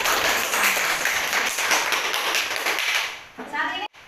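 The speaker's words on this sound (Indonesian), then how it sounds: "Kasih tepuk tangan buat kita semuanya" Classroom clapping during a teacher training lesson, a dense patter of hands that fades after a few seconds, followed by a brief voice before a sudden cutoff.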